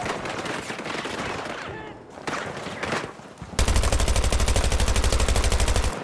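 Gunfire in the Battlefield 2042 video game, with dense bursts of shots over battle noise, then a steady loud rapid automatic fire rattling continuously for the last few seconds, close up.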